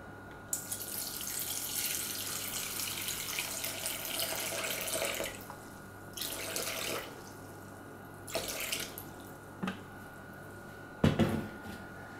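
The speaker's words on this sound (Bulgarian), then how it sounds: "В купата слагаме вода, в случая 350 грама." Water streams from a tap into a bowl for sourdough bread dough, a steady rushing pour broken by short pauses and brief splashy bursts near the end.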